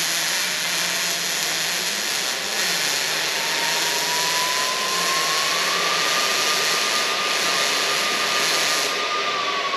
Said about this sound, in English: gotta bump the heat down just a little bit there on the welder